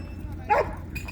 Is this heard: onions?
no